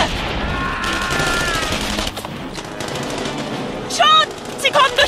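Gunfire in the World War II video game Saboteur, heard as sustained rapid machine-gun bursts, loud and close, with German voices shouting over the shooting.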